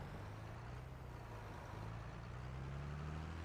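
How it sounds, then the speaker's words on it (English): A tractor engine in the farming game Farming Simulator 22 drones with a low, steady idling hum, constant and fairly faint, with no talking over it. "I can hear the tractor still."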